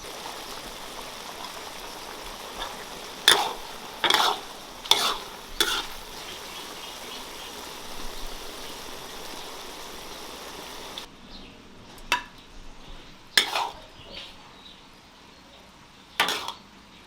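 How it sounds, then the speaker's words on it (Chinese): Pork and peas simmering in a wok over high heat as the sauce reduces, a soft continuous sizzle and bubble with several brief louder stirring scrapes spaced through, the background dropping quieter partway. "开大火，把它的汤汁给它收一下"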